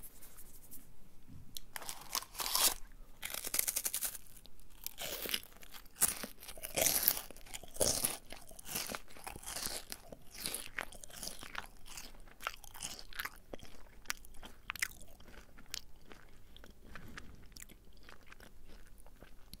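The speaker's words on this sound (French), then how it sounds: "Il y a aussi le croustillant du Kinder Bueno." Crisp, repeated crunching of a Kinder Bueno chocolate wafer bar being bitten and chewed close up, irregular bursts of crackle with no talking.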